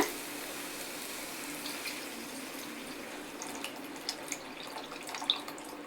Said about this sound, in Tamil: நம்ம கரைச்சி வச்சுருக்க புளியை ஊற்றிடலாம், புளி தண்ணியை